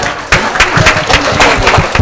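An audience at a school annual day applauds to welcome the school principal onto the stage, a sudden burst of dense, loud clapping that keeps going steadily.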